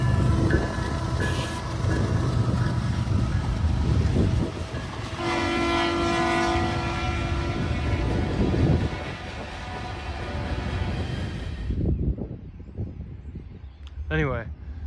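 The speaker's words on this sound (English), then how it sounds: "I was west of town because I wanted to hear the Gevos rumble, but the wind had other plans with my microphone." A GE Evolution series locomotive passes west of town, its low diesel rumble and rail noise almost buried under heavy wind buffeting on the microphone, with a sustained horn-like tone in the middle before the sound drops away abruptly.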